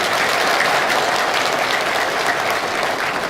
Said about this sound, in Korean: 그분한테 박수 보내줘야 돼.